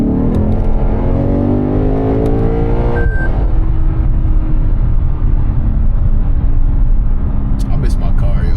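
A 500 hp Lexus RC F engine with an aftermarket intake revs loudly and close, pitch climbing in sweeping harmonics, then easing into a steady throaty drone with a brief roar near the end.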